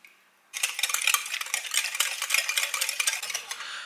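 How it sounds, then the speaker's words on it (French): A whisk beating coconut milk, vegan yogurt and vanilla in a bowl, fast brisk scraping and sloshing strokes starting abruptly after a short quiet pause and continuing steadily, close and alone. "J'y ajoute mes 2 boîtes de lait de coco. 100 g de yaourt végétal. J'y mets un petit peu de vanille. Et je viens lier le tout au fouet."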